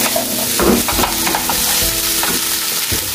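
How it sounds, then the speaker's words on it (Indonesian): Fried rice scraped and tossed around a hot frying pan for Korean-style nasi goreng, with close, steady stirring scrapes over a continuous oily sizzle and no talking. "Nah, nasinya terus dikocok ya."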